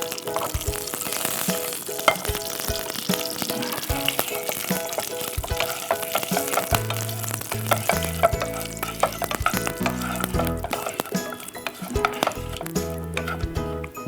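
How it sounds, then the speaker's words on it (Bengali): Whole dried red chilies, bay leaves, cinnamon, cardamom and garam masala sautéing in oil in a pan, a loud continuous sizzle with frequent stirring and scraping, no voices. "আস্ত শুকনো মরিচ, তারপর তেজপাতা, দারচিনি, এলাচ এবং কিছু গরম মশলা আমরা সতে করে নেব"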